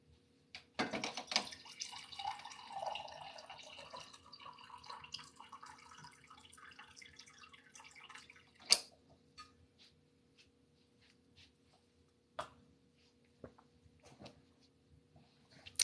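Water runs from a tap in a quiet room, a faint steady splashing stream for a few seconds, then stopping, followed by scattered soft clinks and drips.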